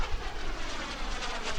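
FLS Microjet small jet aircraft flying at an outdoor airshow, a steady loud engine roar with broadband rumble sustained throughout, no speech.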